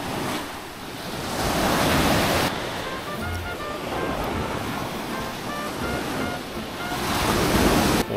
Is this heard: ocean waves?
yes